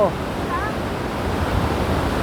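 Roaring broadband rush of the Rhine Falls waterfall in Switzerland, steady and loud throughout, with brief faint voice tones over the constant water noise.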